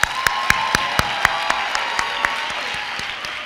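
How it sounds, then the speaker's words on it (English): An audience at a Bronx Community College commencement ceremony applauds, dense steady clapping from a large crowd with a few sharper individual claps standing out, sustained at moderate loudness throughout. "Shall we please give them a round of applause?"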